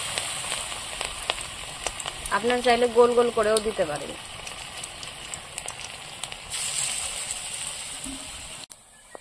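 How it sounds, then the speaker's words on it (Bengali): Bitter gourd leaf fritters, pressed flat, fry in hot oil with a steady, close sizzling hiss that runs the whole time, while someone talks briefly over it. "এদিকে তেল গরম বসিয়ে দিয়েছিলাম। তো এখন আমি এই উচ্ছের বড়াগুলো দেব।"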